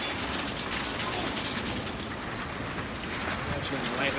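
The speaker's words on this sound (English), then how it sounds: "I think this is just rain right now." Steady rain falling during a spring night thunderstorm in Fishers, Indiana, a dense, constant hiss of drops on surfaces with no pauses, close and moderately loud throughout.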